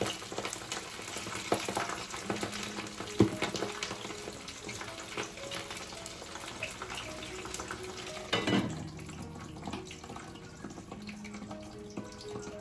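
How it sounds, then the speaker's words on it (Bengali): French fries frying in a home kitchen pan, a faint continuous sizzle with occasional clinks and stirring knocks, no one speaking. "এখন মায়ের জন্য আর আমার জন্য একটু ফ্রেঞ্চ ফ্রাইজ ভাজছি"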